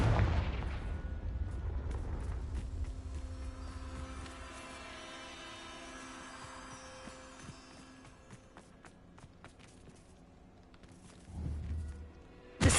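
A Confringo explosive spell in Hogwarts Legacy bursts loudly at the start, its rumbling blast fading into a long, quieter tail of debris and ambience, with another sharp impact rising near the end.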